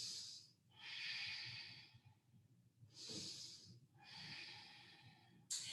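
Slow, deep breaths during a yoga session, four long airy inhales and exhales in a steady rhythm, close and soft, with no talk.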